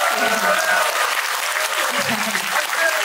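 An audience at a talk concert in Mapo breaks into applause, a full, even wash of many hands clapping throughout, close and loud, with brief voices and a few tonal touches sitting underneath.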